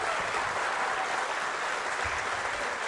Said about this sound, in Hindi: तालियां जोरों से बजाइए इन सभी के लिए आप